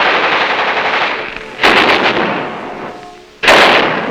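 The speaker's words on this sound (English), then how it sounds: "Check and test fire all weapons." WWII Marine machine guns test-firing before the Tarawa landing, in two loud, close, rapid bursts of automatic fire, each fading into a long rolling echo.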